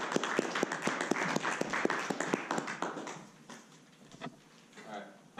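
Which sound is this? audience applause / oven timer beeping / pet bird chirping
audience applause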